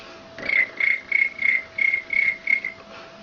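A girl mimics a chirping cricket with eight short, high, evenly spaced chirps in a steady rhythm, close and clear against a quiet background.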